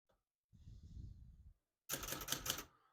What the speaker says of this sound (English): I'll type a sentence on this next line.